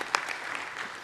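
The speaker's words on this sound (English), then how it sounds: "can everyone just give a round of applause for Masliu" Brief applause from the audience at an EVE Online Fanfest 2009 panel, a soft, fairly distant wash of clapping with one sharper clap near the start, lasting about a second.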